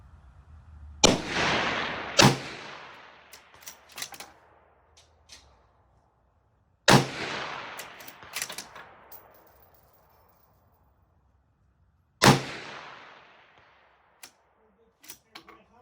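Mossberg MVP bolt-action rifle shooting 77 grain rounds at 330 yards: three sharp, loud reports spaced several seconds apart, each with a rolling echo tail and light mechanical clicks of the bolt cycling in between.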